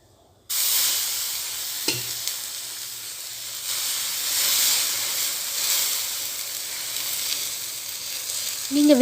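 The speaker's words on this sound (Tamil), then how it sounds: "இப்போ நம்ம இதை தோசைக்கல்லை ஊற்றிக்க போகிறோம்." Egg semiya batter sizzles on a hot dosa pan, a steady loud hiss and crackle of frying after a quick pour, no voices.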